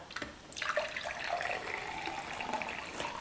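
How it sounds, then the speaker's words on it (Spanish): Water pours steadily into a glass of lime-flavored water, a close, continuous splashing stream with a rising tone and no speech. "todo lo que vamos a hacer es servir nuestro vaso con agua"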